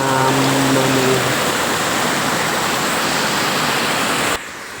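Steady rushing of flowing water close by, broad and even, with a faint tonal hum early on before the sound drops slightly at the end.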